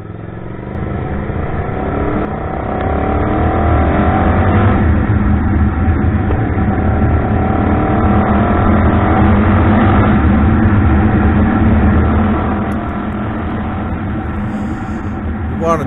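Suzuki TL1000R motorcycle being ridden and wound out: a loud, continuous engine roar with wind rush, building and holding high for several seconds before easing off.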